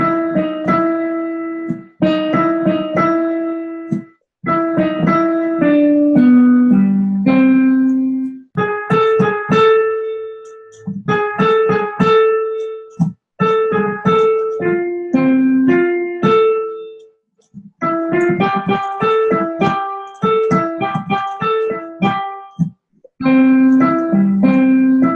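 A piano plays a simple melody straight from the treble-clef notes in short phrases, with clear sustained notes and brief pauses between phrases, played alone.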